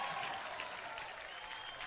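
Applause from an audience at the Filmfare Awards show, a brief stretch of steady crowd clapping, fairly faint and distant.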